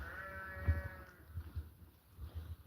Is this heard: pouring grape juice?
no